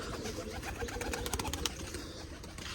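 Pigeons cooing inside a loft, soft repeated low coos mixed with faint chirps, fairly close but quiet against a light background hum.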